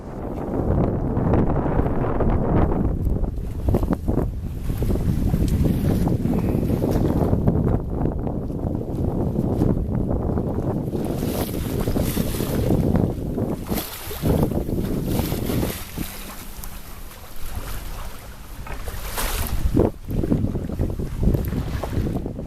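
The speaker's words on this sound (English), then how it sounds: "the tiller strains against its lash as we sail close-hauled to the wind, picking up speed in a brisker breeze" A sailboat sails close-hauled in a brisk, freshening breeze away from shore, with strong wind rushing over the microphone and water washing and splashing along the hull throughout.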